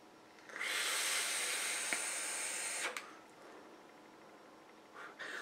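A long, steady airy hiss of a draw on an e-cigarette filled with a fruity, exotic-flavoured premium e-liquid, lasting a couple of seconds, then a fainter exhale and quiet breathing afterward.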